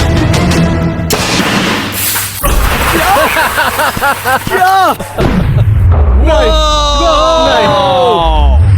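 A toy tank built from trash fires its cannon, a loud boom-like blast after a countdown, with people talking and shouting excitedly around it.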